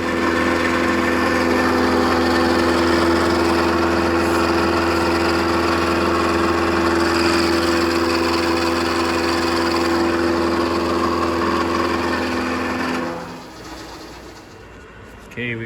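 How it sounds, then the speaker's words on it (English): A milling machine squares up the edges of a vee base plate for a lathe, giving a steady mechanical hum with a faint whine. It runs evenly for about thirteen seconds before powering down. "we got the both edges cleaned up with the mill"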